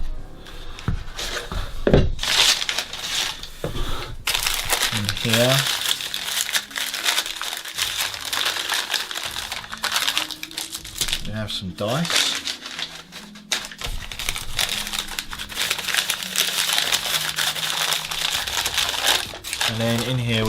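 Brown paper packaging crinkles and rustles as the contents of a Dungeon War board game box are unwrapped, loud and close, with repeated crumpling bursts under a person talking.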